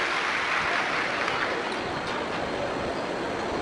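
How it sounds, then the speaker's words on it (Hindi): A large audience applauds steadily to welcome a guest at a Shiv Mahapuran religious discourse, dense continuous clapping filling the space at even loudness throughout. "एक बार जोरदार ताली बजाकर उनका भी स्वागत होगा।"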